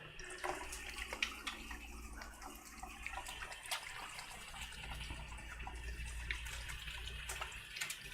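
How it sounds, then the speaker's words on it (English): Water runs from a kitchen tap as hands are rinsed under it during cooking, a soft, steady splashing stream with small irregular splatters, fairly quiet and close. "I'm gonna give my hands a quick rinse."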